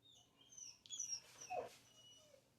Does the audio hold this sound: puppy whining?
yes